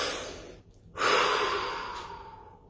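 A person drawing a slow deep breath and then letting it out in a long audible exhale that fades gradually. It is close and alone, and no talk is heard.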